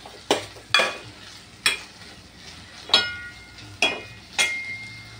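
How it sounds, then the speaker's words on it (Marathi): Onion and tomato stirred in hot oil for a chana masala gravy, with six sharp spoon scrapes against the pan at a loose, uneven rhythm over a soft steady sizzle, close and alone without talk. "टोमॅटो सुद्धा व्यवस्थित हलवून घ्यायचे, कारण आपल्याला कांदा आणि टोमॅटोची पेस्ट बनवायची। ते छानपैकी तेलामध्ये"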